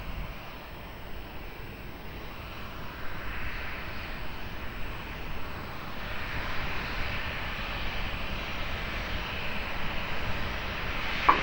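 A Ryanair airliner rolls for takeoff on runway 20 at Lisbon Airport, its engines a broad, distant roar that swells gradually and steadily over the whole stretch with no talk.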